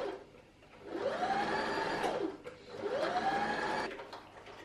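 A home sewing machine stitching fabric and wadding into a wine bottle gift bag, its motor whirring up in pitch and winding down in two separate runs, moderately loud and with no voices.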